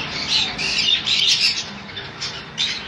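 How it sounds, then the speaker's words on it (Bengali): Yellow-sided conures squawking in a bird dealer's enclosure, a dense run of harsh, shrill calls overlapping one another with no pauses, close and steady, with a couple of louder bursts near the end. "খুব সুন্দর কোয়ালিটি ইয়েলো সাইড কনুর"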